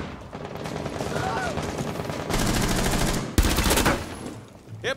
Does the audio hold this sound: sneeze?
no